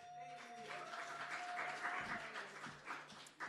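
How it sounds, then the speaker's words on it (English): Audience applause at a Bronx poetry event as a poet is welcomed to the stage, a steady wash of clapping with a few voices and a sustained tone running beneath it. "So please give a round of applause for Miriam."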